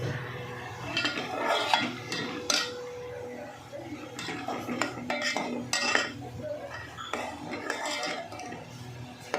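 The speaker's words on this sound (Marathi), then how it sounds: "पहिले छान असं तिखट परतून घेऊ आपण" Chili powder is sautéed in a pan for yogurt kadhi, with repeated metal spoon scrapes and clinks against the pan. The clatter comes in irregular bursts close by, over a low background.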